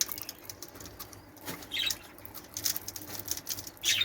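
Pigeons at a feeding spot with red corn and grain, soft fluttering wingbeats and light pattering in short bursts, fairly close, against a faint background hum.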